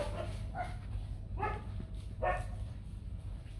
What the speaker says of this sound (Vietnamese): Bắc Hà sù trắng này là cái giống chó, một cái giống chó ta mà rất là đáng để mà nuôi gia đình